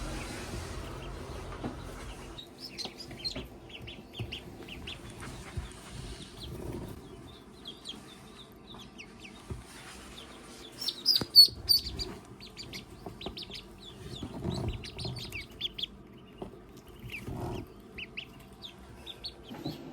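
Baby ducklings in a tub with a heat source, drinker and feeder give a steady stream of high, thin peeping chirps close by, overlapping and busy, with soft rustling and shuffling underneath and no talk.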